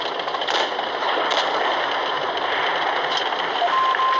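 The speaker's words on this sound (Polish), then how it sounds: "Mega fartowny strzał to był teraz" In World of Tanks, the AMX 50 100 fires its cannon amid a continuous roar of battle noise, with a few sharper blasts standing out against the dense, loud game sound.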